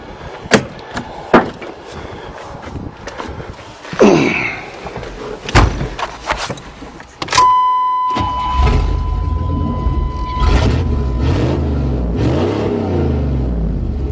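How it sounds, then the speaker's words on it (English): A 1988 Chevy pickup with a newly fitted redneck exhaust is heard as the door slams shut and the engine cranks. It then settles into a loud, rumbling idle with deep, throaty revs that stays close and continuous. "Let's fire this bitch up and see what she sounds like now."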